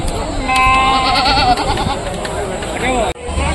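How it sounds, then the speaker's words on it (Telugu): Several goats bleat repeatedly, wavering and close, over a busy background of crowd chatter and talk at a livestock market in Rajarampalli. "ఐదు పోతులు మూడు మేకలు"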